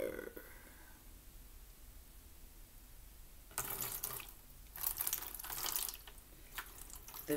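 Tap water runs into a container for sweet potato slips in two bursts, a steady splashing stream that starts midway, pauses briefly, then returns louder with splashy surges before trailing off, close by in a quiet room.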